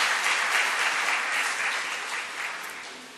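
A large audience at an Urdu poetry gathering gives sustained applause to welcome poet Dr. Kaleem Qaiser, a dense, steady wash of clapping that tapers slightly toward the end.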